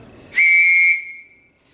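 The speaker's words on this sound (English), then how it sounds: "Now, in a moment or two, I'm going to be blowing a whistle," A single sharp, shrill whistle blast rings out loud and close, held for about half a second before trailing away into silence.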